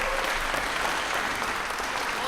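Sustained dense applause from an audience at a Miss Samoa NZ pageant, loud and steady throughout with no talking over it.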